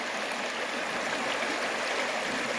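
Clear river water runs at a fish dam site in Northeast Georgia, a steady, full rushing wash close by with no talk.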